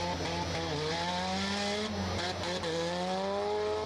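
Worn demolition derby cars at Irwindale Speedway run with loud, continuous engine drone, the pitch rising and falling as they rev and slow. Faint tire scrubbing comes through from a distance over the steady roar.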